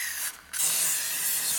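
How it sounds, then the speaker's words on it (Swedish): A can of spray adhesive used for rubber stamping crafts hisses in a close, steady spray, cut by a short pause before a second longer burst. "Men jag tänker att jag testar med sprayen."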